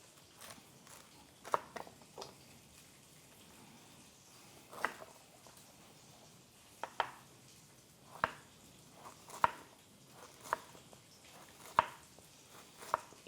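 A knife cuts thin slices of fennel bulb on a board for a duck salad, giving sparse crisp chops spaced a second or so apart, faint and close with no talking.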